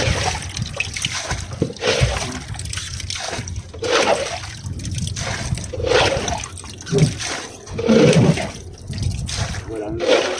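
Water rushes and splashes loudly and continuously in surging waves beside a boat hauling a squid trap, close by, with some voices faintly mixed in.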